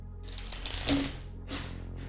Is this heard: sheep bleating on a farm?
no